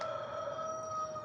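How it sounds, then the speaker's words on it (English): A rooster crows in one sustained, tonal call, fairly close and steady throughout. "The rooster's roosting."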